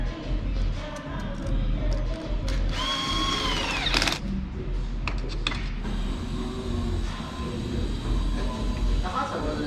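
Power tool tightening clamps on intercooler piping on a Honda Accord, heard as a close, loud whirring drill burst among garage noise and engine hum, with people talking nearby.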